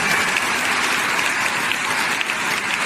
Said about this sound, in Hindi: आज की सुपर परफॉर्मेंस के मौका पर जोरदार तालियां बजाएं